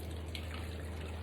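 Water poured into a Barbie Color Reveal doll container, a faint, steady trickling splash heard close up.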